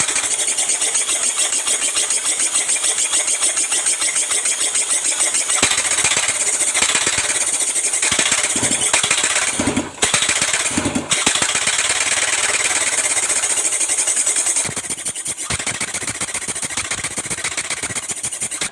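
A Honda engine converted to run on compressed air chatters in a fast, harsh, hammering rhythm, loud and close, with a couple of brief breaks before it settles back into the steady pounding.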